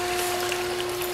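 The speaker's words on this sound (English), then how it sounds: "water is being pumped through the unit" Water is pumped through a 2.5 gpm test unit running on a high-current power supply, a steady mechanical hum with a constant tone under a faint watery hiss, even and unbroken.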